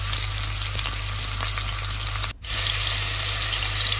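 Onion frying in oil in a pan for a brinjal and potato curry, a loud, steady, close hiss and sizzle with one brief dip partway through.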